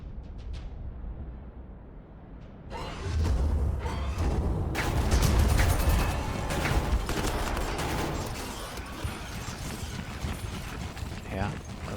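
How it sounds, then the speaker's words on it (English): Warhammer 40000 Armageddon battle gunfire erupts after a quiet opening, a dense, continuous rattle of shots and booms that stays loud and busy for most of the stretch, with someone talking over it. "start shooting those Ludas down"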